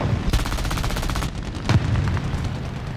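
Machine-gun fire in the War Thunder game, from an I-15bis biplane in a ground battle, comes as loud, rapid bursts that rattle continuously, pause briefly, then resume close and heavy.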